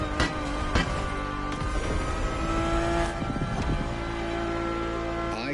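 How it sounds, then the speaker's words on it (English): A car engine in The Crew Motorfest, heard from inside the cabin, drones loudly with harmonic tones that shift in pitch. Brief sharp transients cut in near the start and again toward the end. "And the car's voice sounds even better from inside."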